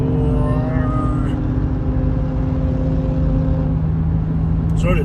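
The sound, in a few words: highway traffic roaring past on Interstate 95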